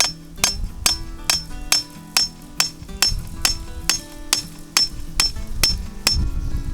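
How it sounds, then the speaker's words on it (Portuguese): A hammer drives a steel rebar fence post into place, with about fifteen loud, evenly spaced metallic strikes ringing close by and no talk between blows. "Eu vou aplicar o vergalhão aqui com o auxílio do martelo"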